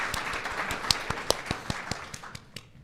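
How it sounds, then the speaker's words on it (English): A short round of audience applause, with separate distinct claps spread out rather than a dense roar, thinning out toward the end. "Round of applause."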